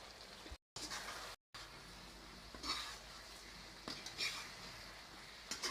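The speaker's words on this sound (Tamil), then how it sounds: "பொரிச்சு வச்ச சிக்கன் போட்டுக்கலாம். கொஞ்சம் நல்லா கிளறி விட்டுக்கலாம்." Fried dragon chicken stirred in a pan at home, a utensil scraping and turning the pieces with soft sizzling, steady and close, broken by two brief silent gaps and sharper clinks near the end.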